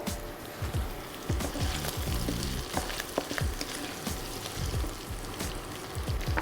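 Sesame seeds frying in hot oil for Chettinad kuzhambu, a steady crackling sizzle with many small pops scattered throughout, close and moderately quiet, with no voices.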